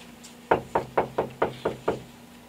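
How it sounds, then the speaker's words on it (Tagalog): Seven firm knocks on a wooden door in a steady, evenly spaced rhythm, close and clear over a faint background hum, with no talking. "May kumakatok."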